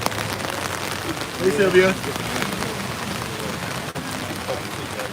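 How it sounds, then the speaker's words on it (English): Heavy rain pounding outdoors as a dense, loud, continuous hiss of drops hitting surfaces, with a person talking briefly over it. "Because it's raining so crazy."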